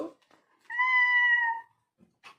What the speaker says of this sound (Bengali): ঘরের মধ্যে বিড়াল ঢুকেছে গো